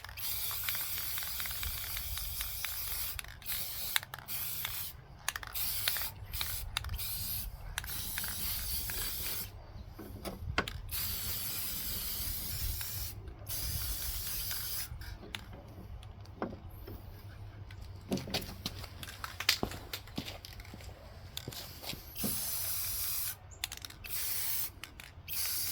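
Spray paint hisses steadily onto a 2006 Craftsman lawn tractor mower deck for a long continuous stretch, the close, loud spray broken by brief pauses and short bursts as the nozzle is released and pressed again.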